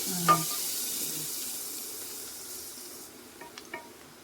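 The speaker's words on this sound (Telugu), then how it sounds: "ఆయిల్ కాగబెట్టుకొని వేడి నూనె దీని మీద పోసుకుందామండి" Hot oil poured over a chicken biryani marinade gives a sharp sizzling burst, then a steady frying hiss that fades after about three seconds, followed by a few faint clinks, with no talking.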